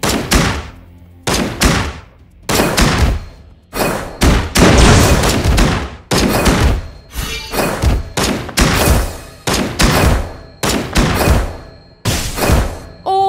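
Gunfire in the video game Legend of Ace, played as the gunner Maria Bell, comes as loud, heavy bursts of shots in repeated volleys separated by short pauses.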